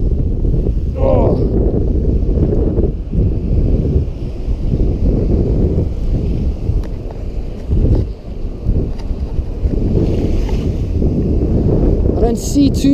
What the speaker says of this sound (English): it's pretty windy and chilly